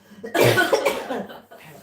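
A burst of harsh coughing, several rapid coughs close together, fairly near and loud, then trailing off into quieter breaths.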